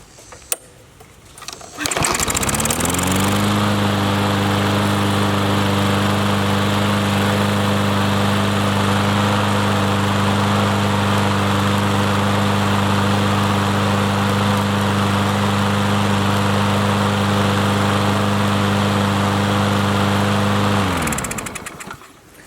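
A small Troy-Bilt push lawn mower engine sputters briefly, then catches and settles into a steady, loud drone with a strong low hum that runs unbroken until it cuts off.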